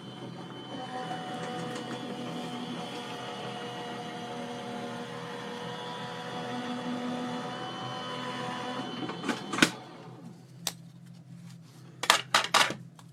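Stencil embossing machine cranking a plate stack through with a steady, humming mechanical drone that ends after several seconds, then a few sharp clicks and clatters as the plates are handled.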